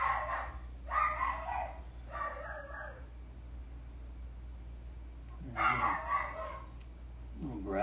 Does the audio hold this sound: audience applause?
no